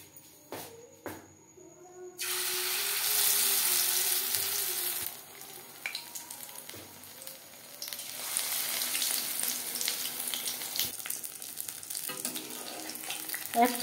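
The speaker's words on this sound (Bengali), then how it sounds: "ফিশ ফ্রাই তৈরি করবার জন্য কড়াইতে 6 চামচ রিফাইন্ড অয়েল গরম করে নিয়েছি।" Batter-dipped fish slid into hot refined oil in a wok: a few soft clicks, then a sudden loud sizzle that rises and falls in waves of close, crackling frying.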